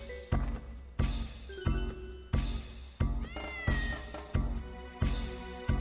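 A cat in the video game Dark Cloud meows repeatedly, about seven clear, evenly spaced calls over a short stretch, close and loud with no talking over them.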